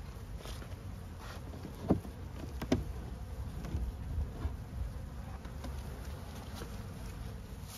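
Honey bees buzz around a hive on a mild February day, a steady close drone with individual insects zipping past, plus a few faint knocks and handling sounds.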